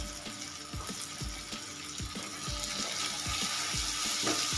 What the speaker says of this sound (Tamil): உப்பு சேர்த்து எல்லாத்தையும் கரண்ட் எடுத்து நல்லா மிக்ஸ் பண்ணிக்கிறேன்